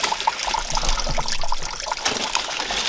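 Spring water seeping straight out of the ground trickles and drips onto debris outdoors, a continuous close, gentle watery patter with no voices.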